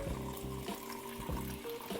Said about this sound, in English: It just collects water there and automatically just starts getting that water in there.